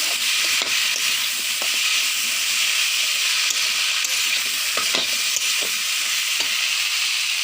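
Fried potatoes tossed with spices in a pan give a continuous close sizzle, broken by intermittent stirring knocks and scrapes of a spoon against the pan.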